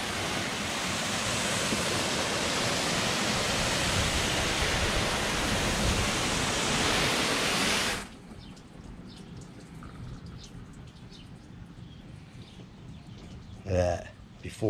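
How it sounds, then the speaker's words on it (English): A flat spray of water rinses a car treated with Meguiar's hybrid ceramic wax spray, a loud steady hiss for about eight seconds that cuts off abruptly, leaving quieter handling noises and a brief thump near the end. "Let's do a flat spray."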